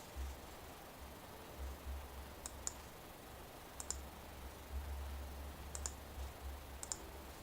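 Computer mouse clicking while working in AutoCAD: four quick pairs of faint, crisp clicks spaced across a quiet room with low background hum, no talking.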